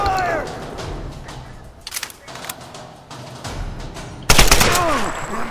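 Gunshots in the action game Tomb Raider 2013 crack out in a few sharp reports, and one loud burst comes near the end, with a voice speaking in between.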